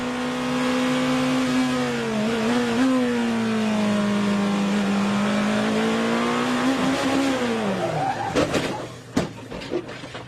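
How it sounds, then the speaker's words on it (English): Onboard a Nick Tandy IMSA/WEC hypercar race car, the engine drones loud and close with steady harmonic pitch that rises and falls through gear changes, ending in sharp bangs and rough bursts near the end. "Have a listen to this. We go on board with Nick Tandy."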